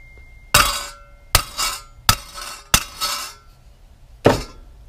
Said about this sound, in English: at the time you hammer that peg down